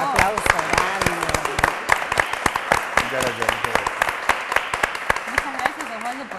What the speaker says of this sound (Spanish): ¡Bravo! ¡Un aplauso grande!